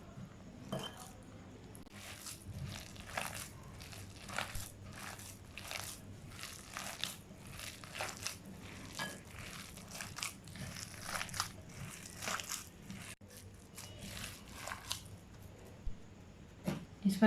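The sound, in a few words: mixing chicken keema with gram flour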